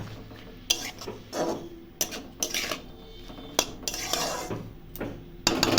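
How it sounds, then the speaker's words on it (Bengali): Greens with brinjal are stirred in a pot, a spoon scraping and clanking against the metal in uneven bursts, followed by the clatter of a lid set on top; quiet and close. "শাকটা এখন নাড়াচাড়া করে একটু ঢাকা দিয়ে দেবো"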